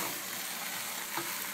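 Seasoned oxtails dropped into a hot pot, giving a loud, continuous sizzle and crackle of frying meat, close and steady with no talking.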